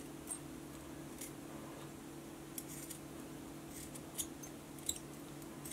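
Scissors snip through dip-dyed cord for a handmade shackle dog collar, giving a few faint, sharp clicks spread over a steady low room hum.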